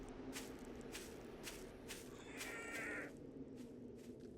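Crows caw and squawk in the Darkness Falls video game, a few raspy calls rising over steady low ambient noise, moderately distant and faint, with no talking.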